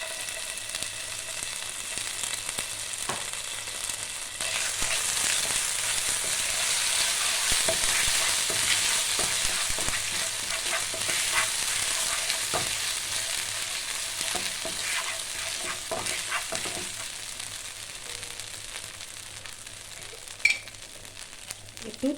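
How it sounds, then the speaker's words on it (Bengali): Cumin and ginger fry in a pan for a vegetarian stuffed pointed gourd dish, with a continuous close sizzle and repeated scraping stirs, a few sharper clinks near the end and no talking. "জিরেটা ভাজা হয়ে গেছে, দিয়ে দেবো 1 চামচ আদা।"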